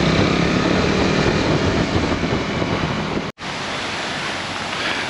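Waterfall at the Chollin thermal hot springs in Costa Rica, a loud, steady wash of falling water close by that cuts out sharply for an instant near the end before resuming, with no voices.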